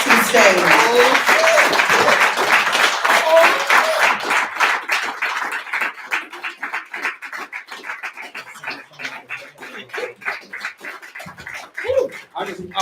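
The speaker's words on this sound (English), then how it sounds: "I want to slow down so y'all can keep clapping for a little longer." At a poetry night, an audience applauds poet DNIC with heavy clapping that thins into scattered, distinct claps, with talking mixed in over the dwindling applause.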